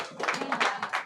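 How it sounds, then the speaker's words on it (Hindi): A seated audience at a Bahujan community gathering breaks into brief applause, a few quick bursts of clapping rising over about a second. "आप सब अपने लिए जोरदार तालियां बजाइए"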